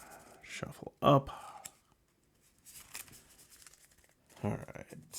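A deck of cards is shuffled during a Marvel Champions tabletop game, a short crisp riffle and snap close by, followed by quieter shuffling rustles with a few soft words spoken.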